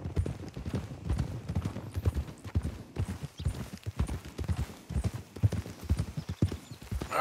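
Horse hooves clip-clop steadily and close by while riding up to hitch at a stable in the video game Red Dead Redemption 2, with an occasional snort, continuous and fairly loud throughout.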